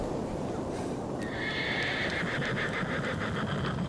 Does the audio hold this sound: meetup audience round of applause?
no